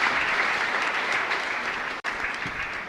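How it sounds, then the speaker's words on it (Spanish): Congregation applauding Dana Lucero during a live Catholic Mass at the parish of San Miguel Arcángel in San Lorenzo; dense, steady clapping from many hands with a momentary break near the end. "Fuerte aplauso para Dana."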